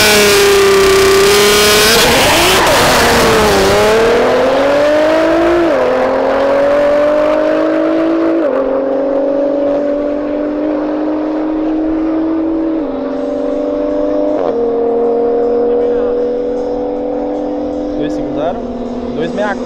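A Nissan GT-R engine revs hard and climbs through several gear shifts, loud and close, with the pitch dropping at each shift before rising again.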